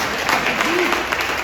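A church congregation applauds during a service, a dense, steady patter of many hands filling the short moment, with a voice faintly mixed in.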